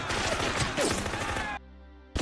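Dense bursts of gunfire from a film's battle scene at a rooftop stronghold, loud and continuous for about a second and a half before cutting off abruptly, then resuming briefly.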